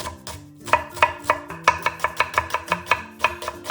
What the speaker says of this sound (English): Finely chop half an onion.